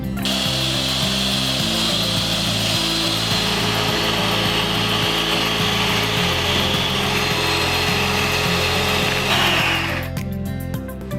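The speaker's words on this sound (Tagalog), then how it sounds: "Then use handheld mixer for mixing." A handheld mixer whirs steadily through a cookies and cream drink of powder and cold water, its motor whine holding even for about ten seconds before cutting off.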